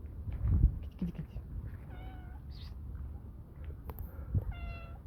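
A cat meows twice in short, clear calls a couple of seconds apart, close and fairly soft, amid faint outdoor rustling and low background noise.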